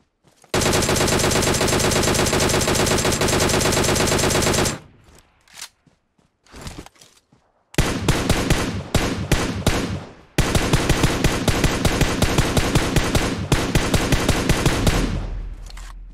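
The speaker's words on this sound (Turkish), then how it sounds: "Derken o da sıkmaya başladı. Nereden sıkıyor?" Sustained automatic gunfire in the PUBG Mobile video game on the Livik map, with long loud rapid bursts of closely spaced shots, a short lull with scattered scrapes and footsteps, then more near, rattling volleys.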